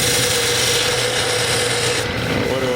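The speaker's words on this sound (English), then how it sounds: "So I'm going to switch out and bring in my very small parting tool." A very small parting tool cuts into spinning wood on a lathe while turning a giant chess king, giving a loud, steady scraping whir with a constant motor tone that eases slightly near the end.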